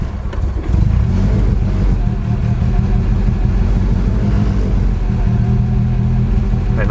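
A turbocharged car engine with a heat-wrapped downpipe and dump tube idles roughly once the throttle is let off, a loud, steady low rumble with uneven, lumpy pulsing throughout and a faint voice underneath.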